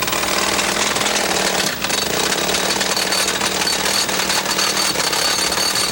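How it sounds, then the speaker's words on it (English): A gasoline-powered Pionjar rock drill hammers loudly and continuously at a dam site, a dense rapid pounding with a brief dip near the middle, close and alone. "the morning silence is broken by the gasoline-powered pine jar drill"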